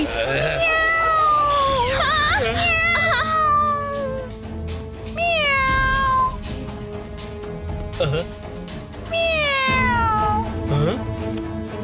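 A cartoon character imitates a cat with a run of drawn-out, sing-song meows, loud and close, mixed with singing and spoken lines over background music.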